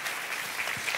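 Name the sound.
congregation applause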